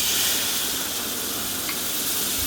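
Curry gravy from a pressure cooker is poured into hot oil for an egg curry, giving a loud, close, steady sizzle and hiss with no voices.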